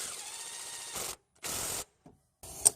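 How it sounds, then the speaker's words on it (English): Ratchet clicking on a crankshaft bolt of a Toyota 3MZ-FE V6 during a timing belt and water pump job, three short bursts of rapid close clicks separated by silences. "So we put the crankshaft bolt back in place. Just slightly torque it down."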